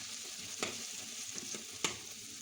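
Ginger garlic paste frying with cooked tomatoes in a pan for prawn biryani, a quiet steady sizzle broken by two or three crisp spoon scrapes.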